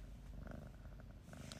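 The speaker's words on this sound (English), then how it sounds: "are you purring?" A cat purrs softly up close at home after a vet visit, a faint steady rumbling drone lasting under two seconds.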